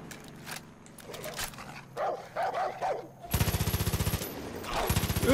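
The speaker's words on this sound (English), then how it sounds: "Stupid dog, come back here." Dog barks mixed with rapid automatic gunfire in the video game Far Cry 5, barking in the first half then loud bursts of machine-gun fire with continued yips near the end.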